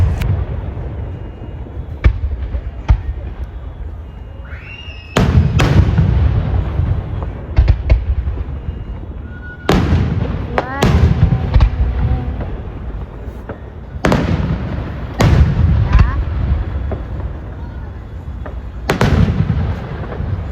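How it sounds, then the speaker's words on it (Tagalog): A large outdoor fireworks display in the USA bursts in a series of loud booming explosions spaced a few seconds apart, each followed by crackling decay, with no talking. "ang ganda ng fireworks nila"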